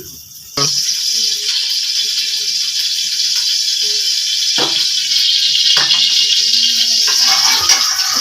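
Hot ghee hits a handi pot and breaks into a loud, steady sizzle that carries on close by, with a few brief clatters over the frying hiss.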